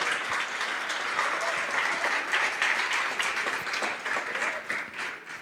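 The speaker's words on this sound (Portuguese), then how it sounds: "Você pode aplaudir o Senhor?" Church congregation applauding during a sermon, a steady, dense wash of clapping from many hands that holds level throughout at a moderate distance.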